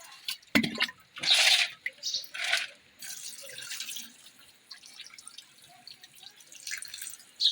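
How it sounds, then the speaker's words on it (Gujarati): Water splashing and dripping into a pot of chicken pieces for curry, with irregular bursts of pouring and trickling between quieter gaps, close and unaccompanied by speech. "તો આપણે પાણી નાખીએ આમાં"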